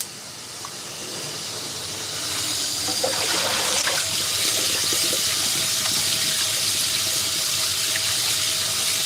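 Hot water runs from a tap while a cast iron pan is rinsed, a steady close hiss and splash that starts softer and then grows fuller and continuous.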